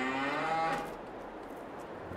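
Cattle mooing in the farming game Farming Simulator 22, one long, close, drawn-out low moo that fades into a quieter ambient background.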